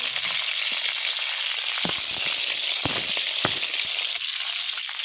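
Chopped onion and garlic sautéing in a pan, a loud, continuous hiss of frying with a few scattered clicks and scrapes of stirring, close up and free of talk.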